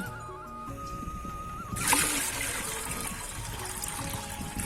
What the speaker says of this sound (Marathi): दोन लिटर पाणी टाकायचं आपल्याला त्यासाठी